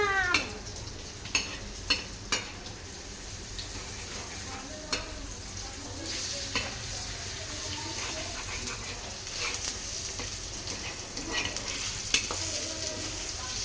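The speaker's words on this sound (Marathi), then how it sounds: "आता टाकायला मिरची तिखट मिरची आता हलवी ना" Vegetables frying in a pan with chili powder are stirred, a spoon scraping and clacking against the metal in a few sharp knocks over a steady close sizzle.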